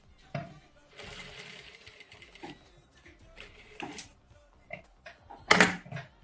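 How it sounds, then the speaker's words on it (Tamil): A sewing machine stitches the side slit of a kurti in short intermittent bursts of whirring, with handling noises between runs and a sharper clatter near the end. "இப்போ நான் இந்த லைனுக்கு மேலேயும் நான் ஸ்டிச் பண்ணிட்டே வரேன்."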